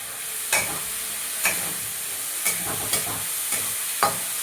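Two chillies fry in hot oil in a pan for a spicy puti fish curry, a steady sizzling hiss punctuated by about six sharp spatters or stirring knocks at irregular intervals, close by.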